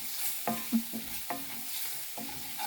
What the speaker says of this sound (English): now I'm going to add this hot chicken stock, just a little bit at a time